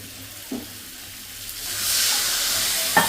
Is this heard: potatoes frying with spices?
yes